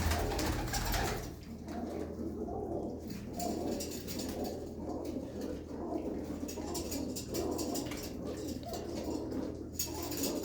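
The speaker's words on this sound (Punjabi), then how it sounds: "ਇੱਕ ਵਾਰ ਤੁਹਾਨੂੰ ਨੇੜੇ ਤੋਂ ਫੇਰ ਦੁਬਾਰਾ ਦਿਖਾ ਦਈਏ ਇਹਨਾਂ ਕਬੂਤਰਾਂ ਦਾ ਕਰਾ ਦਈਏ ਸ਼ੌਂਕ" Pigeons coo steadily in low, throaty rolls, close by, with a constant low hum and faint background noise.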